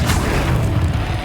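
A Confringo spell explosion from the Hogwarts Legacy video game, a loud, dense boom that fills the whole moment with a heavy low rumble and a short burst of crackling blast noise.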